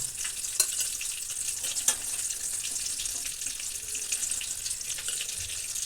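Onions sizzle and fry in hot oil already used for frying shrimp, a continuous crackling hiss with a couple of sharper stirring clicks, close and fairly quiet.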